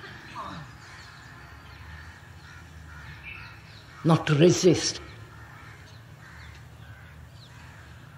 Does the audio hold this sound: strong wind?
no